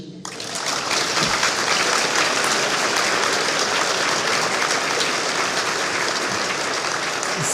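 A live audience bursts into sustained applause after a spiritual talk in Montreal, a dense wash of clapping that starts abruptly and holds steady and loud throughout.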